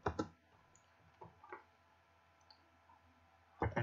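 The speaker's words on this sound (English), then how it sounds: "I will type one command" A few scattered, sharp keystroke clicks on a computer keyboard while typing a command, quiet and close, with short pauses between taps and a cluster at the end.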